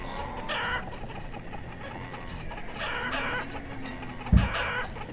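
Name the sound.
chickens clucking in video game Banished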